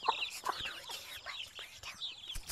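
Chicks cheep in an Upin & Ipin cartoon, a scatter of thin, high peeping calls at close range, quiet and overlapping in short bursts.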